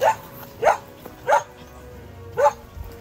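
A guard dog near a farm pig pen barks four times in evenly spaced, sharp barks, fairly close, with a quiet background.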